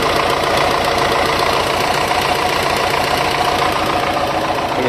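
A tractor engine runs steadily and loudly at close range, a continuous even throbbing with a rapid regular pulse and no interruptions.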